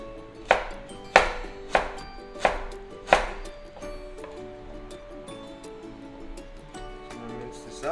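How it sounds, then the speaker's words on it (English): Knife mincing fresh ginger on a cutting board: five sharp, close chops spaced roughly half a second apart, then softer scraping and faint clicks, with low background music throughout. "So I'm gonna mince this up."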